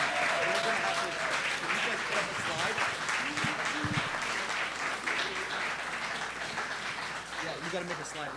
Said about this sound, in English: a round of applause for these terrific folks